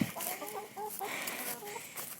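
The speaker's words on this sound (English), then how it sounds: "Here's the chickens." Farm chickens fed on layer feed clucking in a coop, several soft overlapping clucks and short calls at close range, fairly quiet against a steady background hiss.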